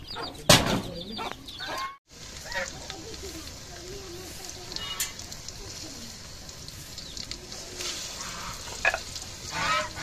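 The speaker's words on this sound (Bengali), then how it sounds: "পাঁচফোড়নটা ভেজে নিচ্ছি বন্ধুরা।" Panch phoron spices fry in hot mustard oil for an olive pickle, giving a steady close sizzle with stirring clatter, a few sharp clicks and a brief dropout near the start.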